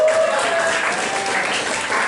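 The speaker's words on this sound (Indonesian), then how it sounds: "Lagi tolong tepuk tangan." A classroom of high school students claps together in sustained applause, a dense steady patter filling the whole stretch without pause.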